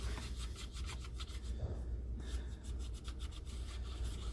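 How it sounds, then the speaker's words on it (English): A rag wiping a greased gear shifter surface on a 2007 Peterbilt truck, a steady soft rubbing and scrubbing that continues throughout, quiet and close, over a low idling hum. "Just wipe that surface up."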